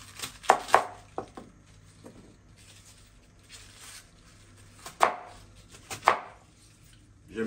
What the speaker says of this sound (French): Je le coupe grossièrement.